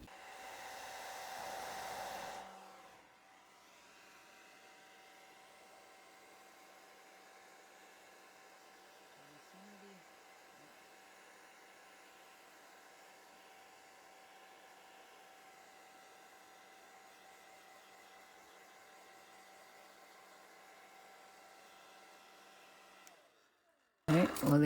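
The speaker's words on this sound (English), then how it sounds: "I have a blow dryer. I'm going to put it on the lowest setting, and I'm going to try and blow on them a bit" A blow dryer running on its lowest setting, aimed at magnetic eyelashes, gives a steady airy whir with a faint hum that runs for about twenty seconds after a louder burst at the start, then clicks off.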